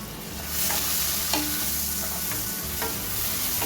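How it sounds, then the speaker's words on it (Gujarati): Chopped onions with a little turmeric sauté in a hot pan, a steady close sizzle broken by a few scraping stirs of the spoon, with no voices. "ડુંગળીને થોડી સાંતળવાની છે"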